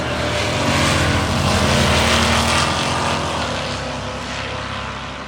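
A 1969 Camaro with black stripes over the hood and deck lid drag racing at a racetrack, its engine a loud, sustained roar that swells and then eases slightly as it runs.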